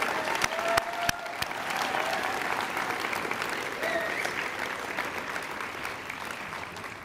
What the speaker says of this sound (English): Let's give one more round of applause for all the graduates.